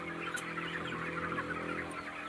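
A crowd of chickens at a poultry farm clucks and murmurs in a dense, continuous chorus over a steady mechanical hum, with no voices heard.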